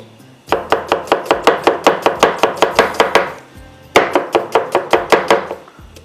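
An onion is chopped by knife on a cutting board in a home kitchen, with two fast bursts of steady, evenly spaced blade knocks, close and loud, separated by a short pause.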